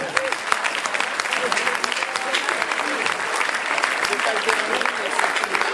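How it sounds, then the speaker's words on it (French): Loud, dense applause from a large audience at a Téléthon charity evening, steady clapping filling the space for several seconds with no break. "Merci à vous et applaudissements."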